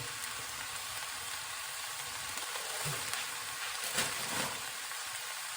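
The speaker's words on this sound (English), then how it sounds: "Throw the bean sprouts in." Bean sprouts sizzle and crackle steadily in a hot frying pan, a continuous bright hiss with a few stirring knocks near the end, moderately loud and close, with no talking.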